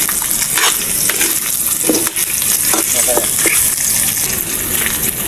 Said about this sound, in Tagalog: Sibuyas at luya. Haluin na natin.